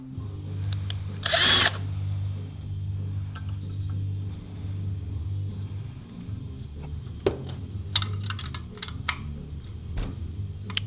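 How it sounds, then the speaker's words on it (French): Power drill driving into material during a hands-on build, a sharp high whine bursting for about a second early on, then quieter ticks and knocks of handling over a steady low hum. "donc on va le faire comme ça tout de suite à la perceuse."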